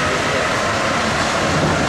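A Paris subway train running, a loud, steady roar of wheels and carriage noise that fills the whole stretch without letting up.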